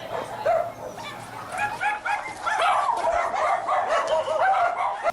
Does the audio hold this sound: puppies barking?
yes